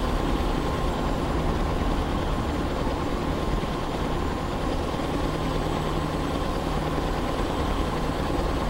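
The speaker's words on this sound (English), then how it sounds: "the sound of this truck" A heavy truck engine with an open pipe exhaust idles steadily in Euro Truck Simulator 2, a dense continuous low rumble that stays loud and unchanging throughout with no voices.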